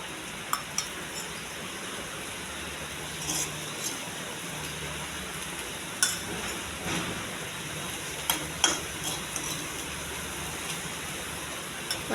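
A moong dal tempering sizzles and fries in a pan, a steady soft hiss broken by occasional clinks and scrapes of a spoon stirring against the metal.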